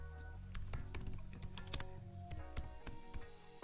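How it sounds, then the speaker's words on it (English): Computer keyboard keys clatter in a quick, uneven run of taps while a prompt is typed, close and fairly quiet, with a low hum underneath and no speech. "Now I will type my prompt here."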